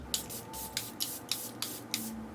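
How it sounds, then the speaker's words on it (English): Setting spray mists onto a face in a series of short, sharp hisses, seven puffs in an even, rapid rhythm. Each one is close and crisp against a quiet background, with no talking. "What I'm gonna do is just take some setting spray"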